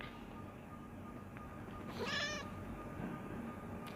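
A kitten gives a single short, high meow over quiet, steady background noise, faint and brief in the middle of the sound.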